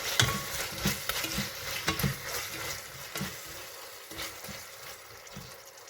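Tomatoes with salt cook in a pan for a vegetable biryani, giving a steady close sizzle broken by repeated stirring scrapes of a spoon, with no talk.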